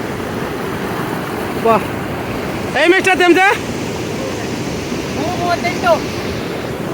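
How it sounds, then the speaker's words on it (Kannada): A loud, constant roar of rushing water at a waterfall fills the scene, with brief bursts of a nearby voice and some wind buffeting. "ಅಲ್ಲಿ ಕಾಣಿಸ್ತಾ ಇರೋದು ಫಾಲ್ಸು ಇಲ್ಲಿ ನೀರು ಹರಿಯೋ ಸ್ಪೀಡ್ ನೋಡಿ"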